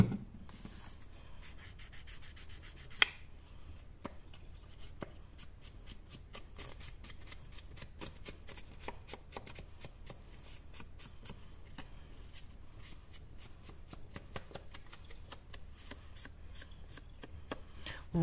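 Paper edges being inked for an art journal page, with a soft steady rubbing and scraping of an ink pad against paper, close and quiet, in quick repeated strokes.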